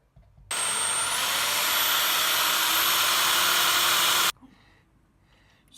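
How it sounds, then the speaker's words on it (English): A loud, steady high-pitched whine of a power drill boring holes in a door frame runs continuously for about four seconds, then cuts off abruptly, leaving quiet room noise. "so now you need to drill the holes"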